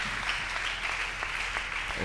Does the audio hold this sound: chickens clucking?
no